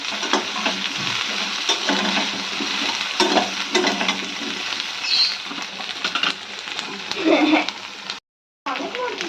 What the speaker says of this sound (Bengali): এইটাকে আমরা একটু হালকা ফ্রাই করে নেবো, বেশি ফ্রাই করবো না।